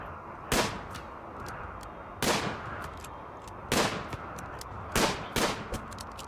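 Gunfire in RimWorld 1.0 combat: four or five sharp, loud shots spaced a second or so apart, each trailed by smaller clicking reports, set against a steady low background hum.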